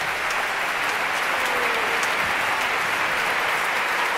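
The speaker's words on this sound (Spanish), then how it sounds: "Y un aplauso aún más grande a su director, el maestro Juan José Olives." An audience at a children's educational concert breaks into loud, sustained applause for the conductor, a dense, even wash of clapping with no gaps and no voices on top.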